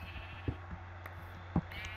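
Bleating sheep in the game Minecraft, with a couple of short, faint bleats standing out over a steady low hum.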